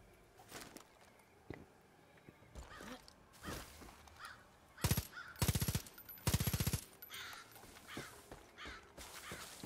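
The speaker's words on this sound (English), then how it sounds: "Can I get that crow?" A crow caws in the Far Cry video game, its harsh, repeated calls coming in short bursts amid scattered game sounds, with no speech.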